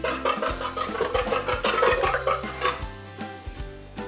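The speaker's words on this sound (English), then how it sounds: "Beat 4 eggs in a large bowl." Eggs beaten in a large bowl for blackberry bars, a whisk or fork clattering quickly and steadily against the bowl's sides, close and fairly loud, with no talking.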